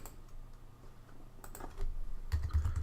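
Fingers type on a computer keyboard while a WordPress plugin is searched for, giving a short run of quiet, close key clicks that grows slightly louder toward the end, with no speech.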